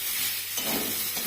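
Water poured into a hot pan of fried ginger and green chili gives a loud continuous sizzle and hiss, with a stirring scrape midway and no talking.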